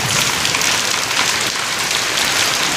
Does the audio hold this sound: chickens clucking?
no